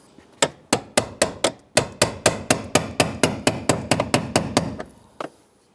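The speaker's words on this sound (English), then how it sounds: "let's go ahead and grab our brass punch and our hammer. And let's go ahead and continue to seat this." A hammer strikes a brass punch to seat the fuel pump lock ring on a 2005-2010 Chrysler 300, giving about twenty sharp metallic blows in a steady close rhythm, loud and with no talking, then a final lone tap.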